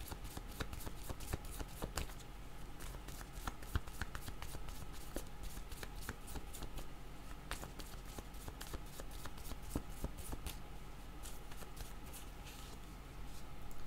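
Tarot cards are shuffled by hand close up, a quiet, continuous riffling with rapid crisp card flicks and sharper snaps scattered throughout.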